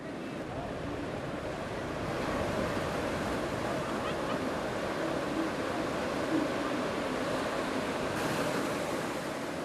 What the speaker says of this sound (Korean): 순식간에 서퍼들을 삼켜버리는 파도